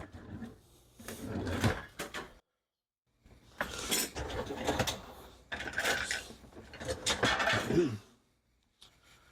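Metal cutlery and utensils clatter and clink as a kitchen drawer is rummaged through in search of a microplane grater, several bursts of jangling separated by a brief pause, fairly close and loud.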